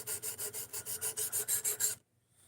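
A knife blade being sharpened by hand, drawn across a stone in about eleven quick, regular strokes, each a close raspy scrape, before the sound stops and leaves near silence.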